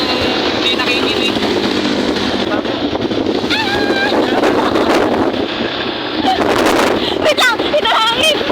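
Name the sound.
wind blowing into the microphone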